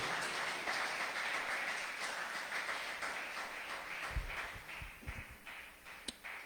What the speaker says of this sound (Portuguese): Vamos dar-lhe um aplauso ao nosso Senhor.